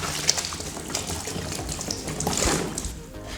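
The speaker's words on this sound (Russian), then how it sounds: "Поэтому обязательно выливаем воду" Water poured out of a bucket after rinsing plaster work, a steady splashing pour running for a few seconds with no voices.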